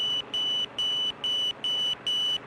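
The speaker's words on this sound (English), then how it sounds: "The signal is coming in now and getting louder." Tracking receiver signal from a police car on a northbound street pulsing as steady, evenly spaced high electronic beeps, about six in quick succession, loud and clear with faint road hum beneath.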